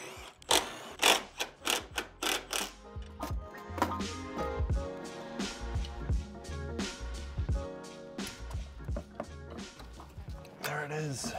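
Wrench work loosening three 13 mm bolts up top on a Volvo V70R during suspension repair, giving irregular metallic clicks, clanks and ratcheting knocks at close range, with a few louder thumps scattered through.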